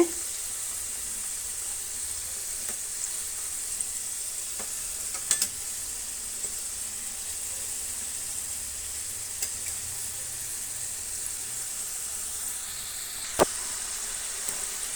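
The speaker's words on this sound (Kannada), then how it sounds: "ಹಾಫ್ ಸ್ಮಲ್ ಡೀಪ್ ಫ್ರೈ ಮಾಡಿದ್ರೆ ತುಂಬಾ ಚೆನ್ನಾಗಿ ಗರಿ ಗರಿಯಾಗಿ" Karjikaya deep frying in hot oil: a soft, steady sizzle running throughout, with a few faint clicks and taps as they are turned.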